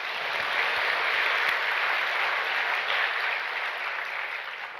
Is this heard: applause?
yes